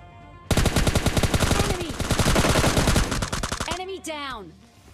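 Automatic gunfire in the shooter game PUBG Lite rattles out in a loud, rapid, sustained burst lasting several seconds, then trails off into ringing echoes.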